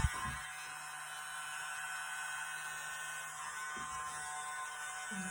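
Mini leaf blower pushing acrylic paint in a Dutch pour, a steady high electric whine and hum held close and constant throughout, with a faint knock at the start.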